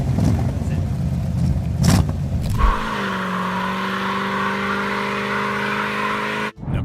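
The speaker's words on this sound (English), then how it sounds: "With that power and that engine growl, the Charger SE is truly a piece of muscle car history." A 1969 Dodge Charger SE muscle car engine growls and revs hard, then settles into a loud, steady roar with rising engine tones before cutting off abruptly.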